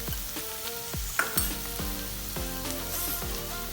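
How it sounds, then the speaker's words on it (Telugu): Onion sizzles in a pan for dry paneer bhurji, a continuous close frying hiss broken by repeated metallic knocks and scrapes from stirring. "వేగిన తర్వాత ఆనియన్, ఒక నిమిషం ఫ్రై అయ్యాక దీంట్లో పసుపు,"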